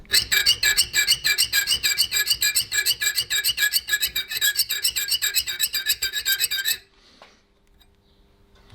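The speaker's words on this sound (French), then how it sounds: "Ou avec une lime diamant." A steel knife blade for a folding knife being worked with a diamond file, fast rhythmic rasping strokes for about seven seconds, loud and close, then stopping into near silence.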